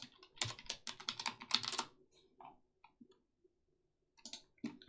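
Typing on a Logitech mechanical keyboard, dense bursts of close, crisp key clicks for the first two seconds, then scattered taps and a pause before another short flurry.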